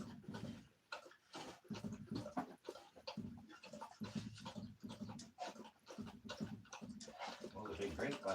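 A puppy on a farm laps and drinks water with quick, repeated wet splashes and panting, close by, while a person talks over it.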